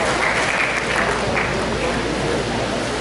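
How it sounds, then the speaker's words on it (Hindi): A school audience at a children's Hindi poetry event applauds steadily, a dense wash of many hands clapping close and loud for the full stretch without pause. "तालियों से उनका स्वागत करें।"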